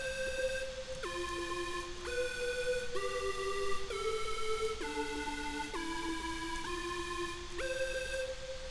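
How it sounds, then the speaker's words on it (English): A bright, glassy synthesizer lead, the Icy Synth Lead patch, plays a slow melody of sustained notes in a hip-hop track, each step cleanly gliding to the next, with no one talking. "It's the Icy Synth Lead, that's what it's called."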